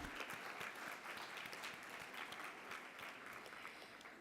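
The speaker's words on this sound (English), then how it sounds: "We give our sponsors a big round of applause, please" Conference audience applauding its sponsors at a healthcare event in the Cayman Islands, a steady, dense wash of many hands clapping that holds evenly throughout at moderate distance.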